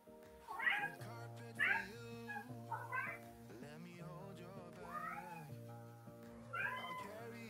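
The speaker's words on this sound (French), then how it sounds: "Le chat décide de chanter." A cat meows repeatedly indoors, a series of drawn-out, wavering calls spaced a second or so apart and fairly faint, over a quiet background tone.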